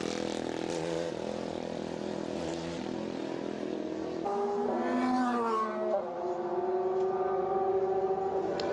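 Le Mans race car pulling away from the pits after a tyre change, engine note rising and sweeping upward midway, heard from a distance over steady circuit background.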